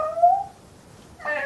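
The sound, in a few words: voice imitating an angry cat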